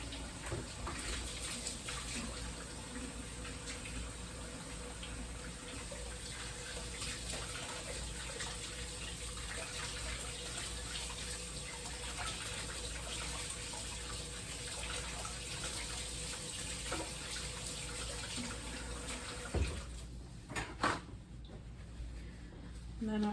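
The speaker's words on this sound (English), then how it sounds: "I'm gonna wash my hands real quick." A kitchen tap runs steadily as hands are washed under it, a constant close gush of water with a small splash and clatter near the end as it shuts off.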